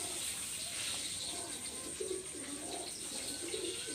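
Pigeons, Teddy Golden Kamagar birds, coo in repeated low, throaty bursts under a steady background hiss, fairly close and of moderate loudness.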